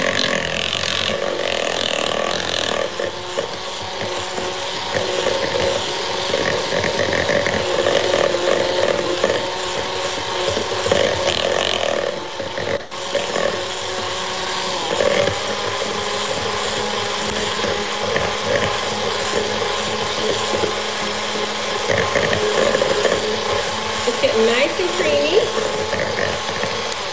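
Electric mixer beating cake batter for a chess cake, turned up to a higher speed, a steady loud whirring grind with a rattling mechanical texture running continuously without letup.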